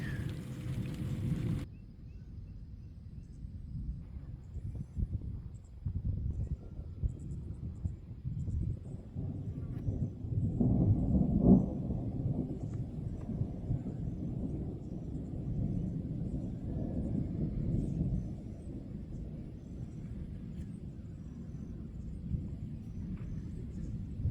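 A low, continuous rumble of distant thunder rolls on and swells gently in the middle, with no voices present.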